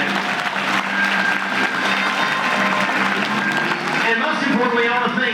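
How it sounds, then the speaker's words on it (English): An audience at a United Way 2022 campaign kickoff applauds its staff, sustained clapping at steady volume with a voice talking over it near the end. "if you would please give a round of applause for our United Way staff"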